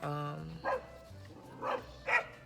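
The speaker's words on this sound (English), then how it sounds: "this dog is annoying me" A dog barks a few times at a short distance beside a dog park, short separate yelps spread across a quiet background after a brief moment of voice.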